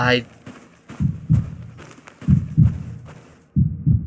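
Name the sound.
heartbeat sound of object media scan in video game Lidar Exploration Program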